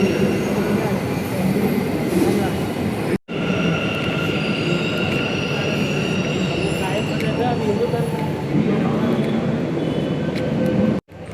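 Continuous rumble and hum of a Bengaluru metro train in motion heard from inside, with faint wheel squeal and a brief dropout midway.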